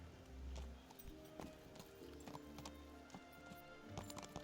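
A horse in Kingdom Come: Deliverance clip-clops in a steady walking rhythm, hoofbeats close and distinct over a low game ambience, with a brief snort or whinny near the start.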